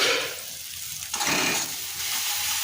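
Masala for Bengali egg bhuna curry stir-fried in a pan, with a steady close hiss of sizzling oil and a brief scrape of stirring midway, alone with no voices.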